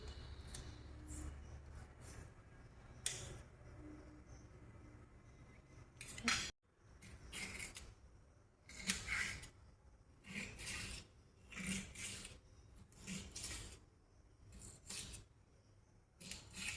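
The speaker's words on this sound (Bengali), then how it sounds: "এবার রসুনগুলোকে কুচি কুচি করে নিচ্ছি।" Garlic cloves are minced with a knife for a chicken soup, making quiet, close-up irregular scraping and tapping strokes that come in short bursts with pauses between them.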